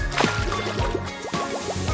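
Liquid pours and drips into a tiny doll bathtub made as a miniature craft, with a quick run of small wet plops, drips and bubbly squishes close up.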